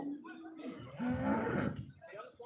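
Cattle at a cow and calf market mooing in long low calls, one after another, with people talking in the background.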